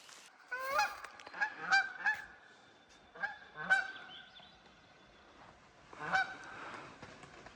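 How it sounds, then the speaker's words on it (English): A flock of geese honking in the wilderness at the edge of Wabakimi, several irregular bursts of calls from a distance with quiet gaps between them. "That is the first flock of geese that I've seen since August of last year."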